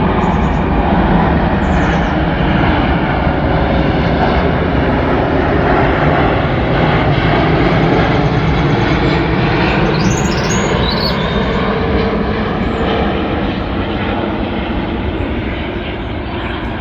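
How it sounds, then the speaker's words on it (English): Airplanes flying overhead, a loud continuous broadband engine roar that holds steady throughout with no pauses and tapers slightly at the end, heard alone without talk. "I went back about 4 days, 5 days later, and there's planes everywhere."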